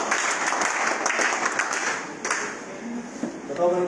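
An audience claps for the madam at a network marketing meeting, a moderate burst of applause that thins out partway through, with some voices and tapping mixed in toward the end.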